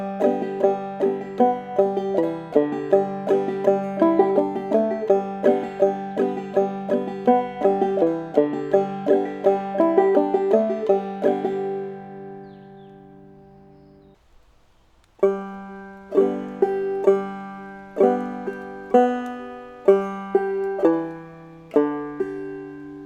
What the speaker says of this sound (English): Today we move on to the B section of Sourwood Mountain,